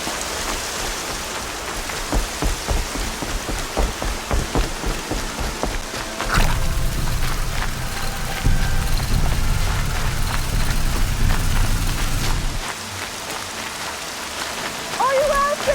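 Rain falls steadily in the video game Horizon Zero Dawn, a loud continuous hiss of drops on surfaces that swells heavier in the middle, with faint scattered knocks.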